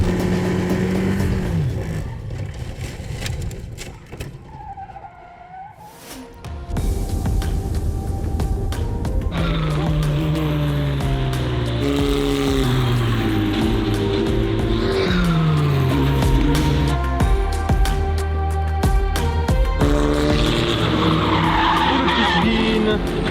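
A leading car on a race circuit, with its engine droning steadily and rising and falling in pitch through the laps, close and continuous after a brief quieter moment early on.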